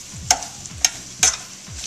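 Spinach tossed in a hot pan, giving three sharp clattering stirs spaced about half a second apart over a low, steady sizzle, with no voices.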